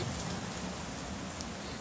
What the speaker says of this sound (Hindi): अभी मौसम ऐसा है, एकदम ज़ोरदार बारिश आ रही है